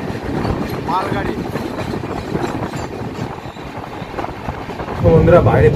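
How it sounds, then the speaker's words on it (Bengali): A freight train rolls past a large bridge on a cold day, a steady rumble with rhythmic clatter of wagons, close and fairly loud, swelling near the end. "একটা ট্রেন পাস করছে এখন।"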